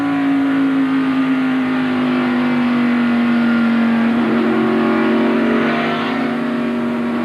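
NASCAR Winston Cup stock cars racing at Dover Downs in 1992, a loud, sustained engine roar at steady throttle with a slight pitch drop as a car passes close by.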